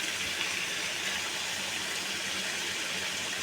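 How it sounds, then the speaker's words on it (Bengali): Water poured into ground spice mix for a thin meat curry, a continuous close gushing splash running without pause through the whole moment. "যে গুঁড়ো মশলাটা দেবো, তার মধ্যে একটু জল দিয়ে আমি একটু গুলিয়ে নেব"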